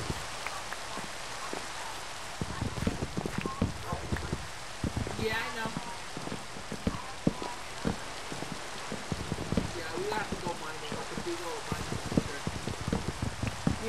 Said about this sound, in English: This rain's getting on my nerves.